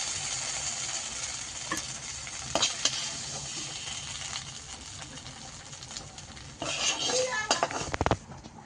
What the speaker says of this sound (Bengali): কষে নেব কষে নিয়ে লাভিয়ে নেব লাভিয়ে নিচ্ছি দেখো